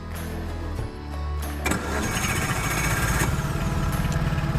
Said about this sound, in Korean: 지금 중립 상태의 기어가 되어 있기 때문에 한번 시동을 걸어 보겠습니다